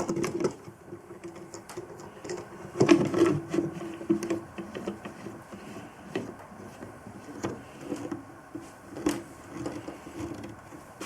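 A clamp is cranked down onto a panel of a wooden saw crate, with scattered creaks, squeaks and knocks at close range, one louder burst in the middle, then quieter handling noises.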